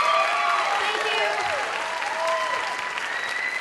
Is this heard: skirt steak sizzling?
no